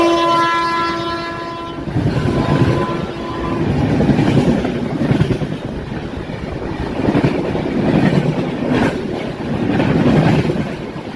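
The Palnadu SF Express LHB train departs Chityal station with a long horn blast at the start, then rolling wheel clatter and rhythmic clickety-clack building up, loud and close.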